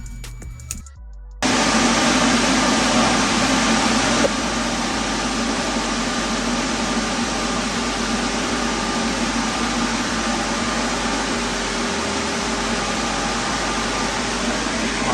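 A powerful explosion-proof high-velocity fan starts up with a click and roars steadily at close range, a constant loud rushing whoosh like a vacuum cleaner with a low motor hum underneath.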